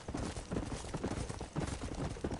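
Horse hooves clip-clopping at a steady walking rhythm in the western video game Red Dead Redemption, close and fairly loud over a soft ambient bed.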